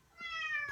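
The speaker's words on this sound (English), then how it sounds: "that's my cat" A house cat gives a single short meow, rising then tapering off in under a second, close and clear against a quiet room.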